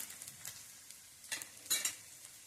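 Colocasia leaf rolls, alu vadi, shallow frying in a pan, a faint low sizzle with a few brief louder crackling bursts near the end, quiet and close.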